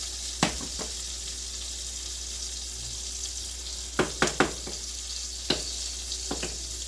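Steady sizzling of Cajun pork chops simmering low in a pan, with a few sharp clicks and scrapes of utensils scattered through.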